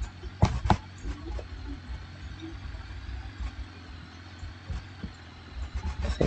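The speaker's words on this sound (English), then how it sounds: "I think the engine's still on." A car engine in BeamNG Drive idles on after a rollover crash, a low steady rumble running throughout at moderate level, with a few sharp knocks and clunks over it.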